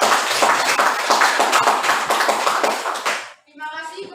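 A class of students claps hands together in a classroom, a loud, dense burst of applause lasting about three seconds before stopping abruptly, followed by a brief faint voice.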